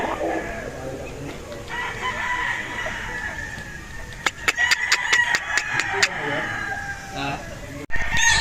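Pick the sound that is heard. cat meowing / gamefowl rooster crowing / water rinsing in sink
gamefowl rooster crowing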